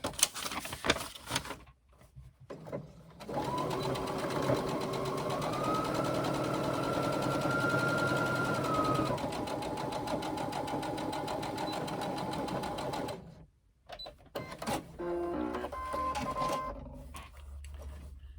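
A sewing machine runs a 3/8 inch seam on a crossbody bag: a steady, fast mechanical whir with rhythmic needle clatter for several seconds, starting and stopping between short pauses.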